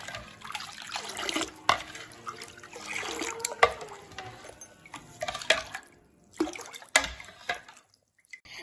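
Golgappa water for pani puri being stirred in a kitchen, soft sloshing and trickling liquid with faint drips and clinks, quiet and close, with brief pauses.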